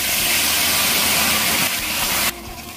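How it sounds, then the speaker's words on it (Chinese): Boiling water is poured into a wok of stir-fried lamb bones that have been toasted in oil, setting off a loud, steady, hissing sizzle that cuts off sharply near the end and leaves quieter bubbling. "烤香之后我们加入开水"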